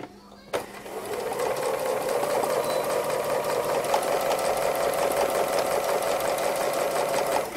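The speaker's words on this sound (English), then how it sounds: "we're just going to stitch around these" A sewing machine doing free-motion embroidery through thick fabric layers on a hare and flower hanging starts with a click, then runs in a loud, continuous, close mechanical whir with a fast stitching rattle.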